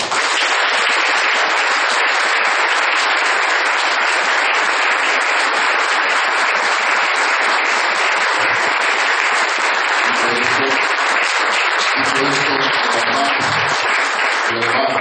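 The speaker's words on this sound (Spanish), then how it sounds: "para la que pido un enorme aplauso" A crowd gathered for the opening of a community centre in Granadilla de Abona gives loud, sustained applause, a dense, even wall of clapping that continues unbroken, with faint voices showing through near the end.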